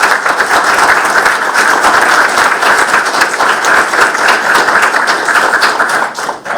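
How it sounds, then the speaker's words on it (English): An audience at a governor's announcement on federal funding for crime victim services breaks into loud, steady clapping, dense and close, with sharp individual claps audible throughout before it thins out at the very end. "That one is worth clapping for."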